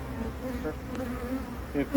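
Honey bees buzz steadily around an open hive during an early June inspection, a continuous droning hum with a slightly louder swell near the end and no talking.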